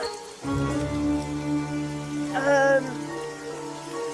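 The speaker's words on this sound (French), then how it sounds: "Oh, il pleut beaucoup trop!" Heavy rain pours steadily in a cartoon scene, a dense continuous hiss of drops striking surfaces that starts abruptly and holds loud throughout, with a brief tonal musical accent partway through.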